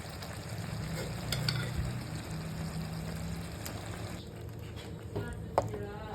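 A spoon stirs through thick cooking lentils in a pot with soft scraping, swishing sounds and faint sizzling, continuous at moderate volume.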